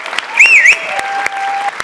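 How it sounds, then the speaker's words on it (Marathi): Brief burst of audience clapping and cheering after a Marathi comedy stage performance, loud and dense against a bright whistle-like tone, with a host's voice calling out over it. "बुंबाट सुसाट जोरदार टाळ्या"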